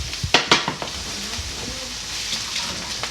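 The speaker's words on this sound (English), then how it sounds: "I got the pan screaming hot already. We're gonna get all these vegetables." Vegetables and cut onion hit a screaming-hot pan with a few sharp clatters at the start, then settle into a steady, bright sizzle that carries on close and even.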